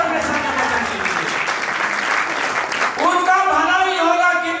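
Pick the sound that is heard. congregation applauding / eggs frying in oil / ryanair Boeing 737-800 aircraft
congregation applauding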